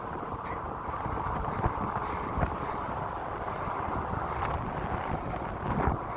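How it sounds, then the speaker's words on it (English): Strong wind gusts buffet a cyclist's microphone, a loud, continuous low rumble with brief swells throughout and no speech. "a big gust of wind came and hit me"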